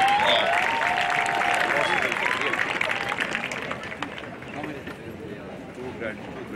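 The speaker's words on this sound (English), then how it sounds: "graduates, turn around and give them a round of applause." At the 2022 Mississippi Valley State University commencement, graduates turn and applaud their standing faculty. Broad applause mixes with shouting voices at first, then slowly fades to a thinner patter of claps across the large crowd.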